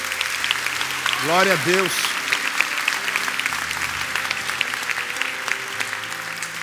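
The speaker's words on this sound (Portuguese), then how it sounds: "dá uma salva de palmas ao Senhor" Applause fills a church congregation, a steady clapping wash running throughout while a voice briefly calls out praise over it near the start.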